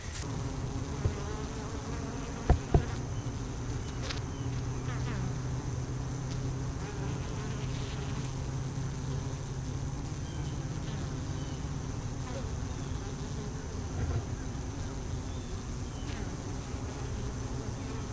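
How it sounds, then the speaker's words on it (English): Honey bees fly around their hives on a morning in goldenrod season, a continuous close buzzing drone with individual bees passing nearby, and someone speaks occasionally over it. "all the bees are flying and looking good"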